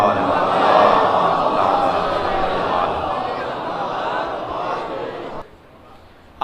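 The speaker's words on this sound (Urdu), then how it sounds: "بلند تر صلوات پڑھ لیں محمد و آل محمد" A large crowd at a religious gathering recites salawat together in loud unison, a dense wash of voices that fills the space for several seconds before cutting off abruptly.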